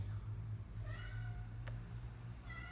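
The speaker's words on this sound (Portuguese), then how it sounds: "Ah, vai miar." A cat indoors gives a few short, fairly faint meows over a steady low background hum.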